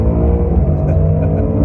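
A 2018 Mustang GT with the 10R80 automatic is pushed hard, its loud engine tone climbing steadily in a short, close burst with no talk over it.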